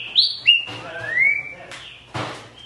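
A green-winged saltator sings clear, sliding whistled phrases, several rising and falling notes in a close, fairly loud burst, with faint background noise and a low hum.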